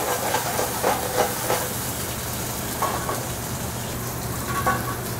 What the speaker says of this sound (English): and then we'll just saute that up.